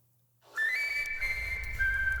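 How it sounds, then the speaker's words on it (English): A penny whistle sounds a clear, sustained high note, briefly stepping up in pitch and then dropping slightly, close and steady. "Penny whistle."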